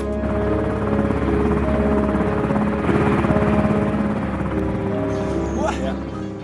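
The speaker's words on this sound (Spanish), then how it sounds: "el helicóptero despegó" A military helicopter takes off during an SAS evacuation in Malaysia, its rotor thumping loudly and steadily up close while a narrator speaks over it.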